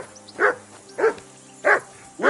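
A dog barks in the medieval video game Kingdom Come: Deliverance II, four loud, close barks at a steady, evenly spaced rhythm with quiet gaps between them.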